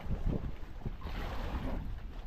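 Gusty wind buffets the microphone in low, rumbling bursts, loud and close, with no voices.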